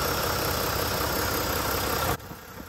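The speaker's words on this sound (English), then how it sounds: "Looking under the hood, we have the Mack MP8 505 horsepower engine" Mack MP8 505-horsepower diesel engine idling in a 2017 Mack Pinnacle Rawhide truck, a steady close rumbling drone that cuts off sharply near the end.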